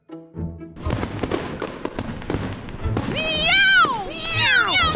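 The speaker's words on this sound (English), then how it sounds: "I can't hear you over all them fireworks." Loud cartoon fireworks burst and crackle in rapid succession, joined midway by high, swooping whistles and wails, with animated cats meowing and characters' voices mixed in.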